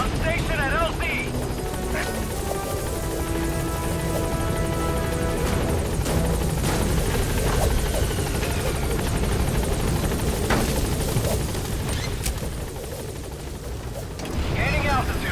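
The Pequod helicopter in Metal Gear Solid V: The Phantom Pain comes in to land, its rotor roaring loud and steady throughout, with voices and occasional booms mixed in before the sound eases near the end.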